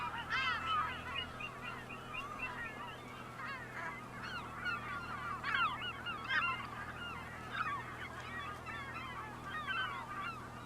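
Chickens on a chicken cam call and cluck in repeated bursts. Several birds are heard at once at moderate distance, over a steady low background hum.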